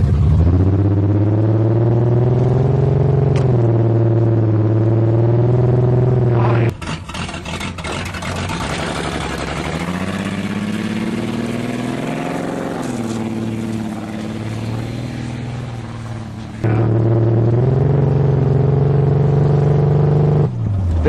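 A 1982 Toyota Cressida with a rough, droning engine rumbling loudly as it drives off after being revived, steady tone rising and falling through the run.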